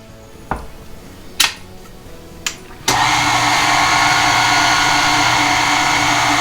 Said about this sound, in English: mix all of that in the mixer